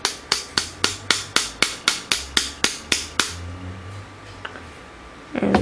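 A steady run of about a dozen crisp, evenly spaced hammer taps driving a pin into an airsoft Recon AR, close and sharp, then quieter handling noises and a brief clatter.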